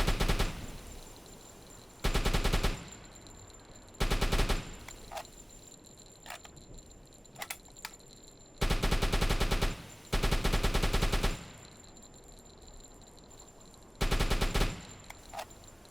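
Bursts of machine-gun fire aimed at a lifeboat in the WW2 submarine game UBOAT, five loud sustained volleys about a second each with quieter clicks and shots between, no talking.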